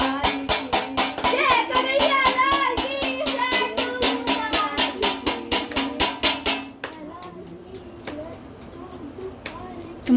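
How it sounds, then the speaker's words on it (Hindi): A small child claps during a home Janmashtami puja, a brisk, regular run of sharp claps that is loud at first and then softer and sparser, while adults and someone talk over it. "क्या ताली बजा रहे हो तुम तो छोटू भैया"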